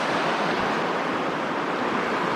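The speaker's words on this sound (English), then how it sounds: "Look how fast this water's flowing" Steady, loud rush of a fast-flowing stream near Talkeetna, Alaska, a continuous broadband roar with no pauses, close by and without voices.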